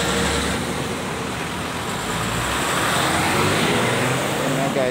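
Government-paid buses speed past along a roadway, a steady wash of traffic and engine noise that carries through the whole stretch, with a voice talking over it.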